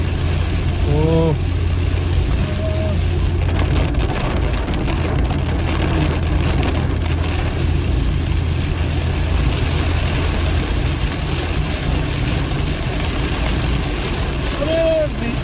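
Heavy rain pounds a car while driving, a dense, steady hiss over the low hum of the engine throughout, with brief voices now and then.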